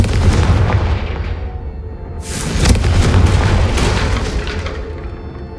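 A Confringo fire spell bursts with a deep, loud boom in Hogwarts Legacy, its roar rolling on before a second blast erupts midway and fades slowly, close and heavy with no talk.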